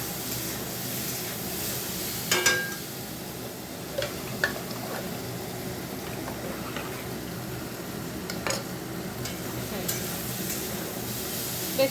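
Vegetarian food fries gently in a pan and is stirred. A soft, continuous sizzle runs throughout, with occasional clicks and scrapes of the spatula against the pan.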